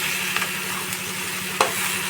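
Cauliflower pakoras frying over low heat in a pan with capsicum, onion and tomato, a continuous close sizzle broken by a few brief stirring clicks.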